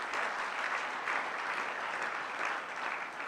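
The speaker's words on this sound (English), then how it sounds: "Yeah, clap at that." Audience at a gala gives a sustained, even round of clapping, many hands blending into a steady, moderately loud wash that swells gently and carries on without talking.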